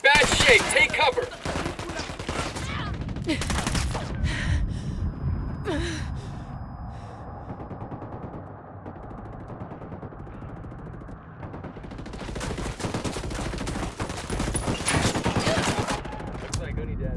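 Gunfire in the video game Ghost Recon Wildlands, loud bursts of automatic fire at the start and again near the end, with scattered single shots and a quieter stretch between, mixed with breathing and gasps.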